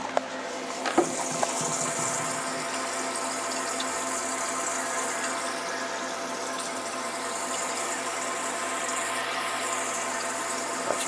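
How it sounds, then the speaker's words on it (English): An aquarium air pump pushes air through an air stone into the water of a deep water culture hydroponic tub, a steady continuous bubbling fizz with a faint mechanical hum, alone and unchanging throughout. "making a lot of bubbles in there"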